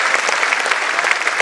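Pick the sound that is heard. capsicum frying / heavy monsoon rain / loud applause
loud applause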